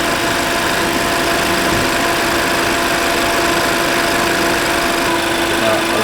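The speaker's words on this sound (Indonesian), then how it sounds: "Nah, jadi kita akan perhatikan nih suara mesinnya ya" A car engine runs steadily, close up, a constant loud idling hum with faint high-pitched whine and no talk over it.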